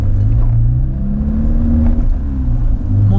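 A motorcycle engine revs loud and close as the rider pulls away, a throaty rising and falling drone with a strong low rumble throughout.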